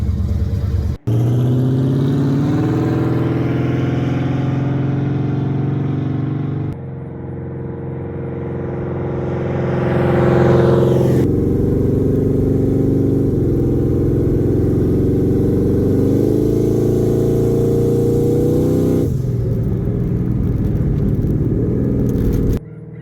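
A Ford Mustang engine starts and runs after its fuel pump is reinstalled, a loud, steady rumbling idle with harmonic drone, several rises and dips in revs, and a brief cut near the start, with no talking.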